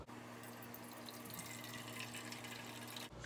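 Water running steadily from a tap into a vessel in a home kitchen, filling for rasam, a faint continuous splashing stream that stops abruptly near the end.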